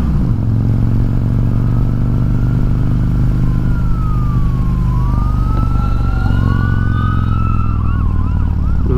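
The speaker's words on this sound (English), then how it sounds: "The sirens." An emergency vehicle siren wails along an interstate, loud and near, its rising and falling tone sweeping over a heavy low rumble of traffic and wind throughout.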